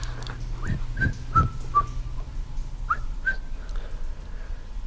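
A person whistles short, rising tones in a few separate phrases, clear and fairly close, with low background hum underneath and no talking.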